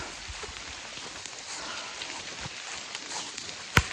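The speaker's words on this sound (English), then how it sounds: "It's been raining nonstop." Steady wash of nonstop rain falling on the Appalachian Trail, dense and even throughout, with one sharp knock near the end.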